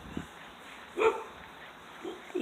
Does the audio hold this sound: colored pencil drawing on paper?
no